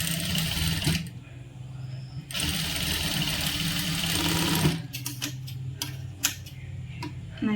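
Close sewing machine running in long continuous stretches while stitching the cross piece of a churidar, then stopping into quieter ticking and clicking of the mechanism, with a voice speaking in the pauses.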